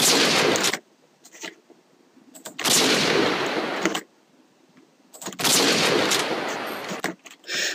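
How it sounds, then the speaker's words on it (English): Sniper rifle gunshot sound effects, Barrett or Intervention, boom out as three loud, separate blasts, each with a long rumbling tail and quiet gaps between them, with no talk. "I'm just going to take 2 in, the bullet sounds and sniper shots"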